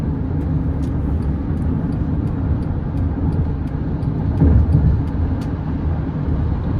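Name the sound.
road noise inside 2016 Honda Odyssey at highway speed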